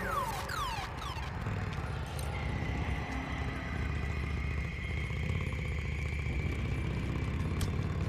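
A motorcycle engine idles steadily in the video game Days Gone, a continuous low rumble running the whole time under ambient game noise, with a brief clatter near the start.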